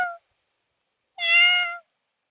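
A man imitates a kitten's meow with a short clipped mew at the start, then after a pause a longer, clear, drawn-out meow, both close and alone against silence.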